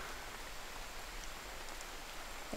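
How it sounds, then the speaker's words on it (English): Light rain falls steadily outdoors beside a river, a soft, even hiss of drops spread across the whole stretch with no voices, fairly quiet and constant throughout. "we got a little rain coming down here"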